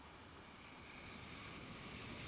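Ocean waves rolling in on a shore outdoors, a faint, distant, continuous wash of surf mixed with soft wind rumble, swelling slightly toward the end.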